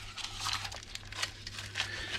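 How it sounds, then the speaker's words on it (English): An old paper butter wrapper rubs and crinkles around the inside of a pan while greasing it for a Lithuanian potato cake, a close, continuous papery scratching with soft rhythmic crackles. "use this old butter wrapper and basically rub it around the inside of the pan"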